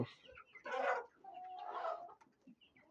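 Desi chickens and roosters on a poultry farm give a couple of close, loud clucking bursts separated by quieter gaps, with no talking.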